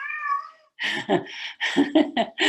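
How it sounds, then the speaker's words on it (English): Cats meow indoors, up close. A long, high, drawn-out meow is followed after a short gap by a rapid series of shorter, insistent meows and yowls. "Sorry about the cats."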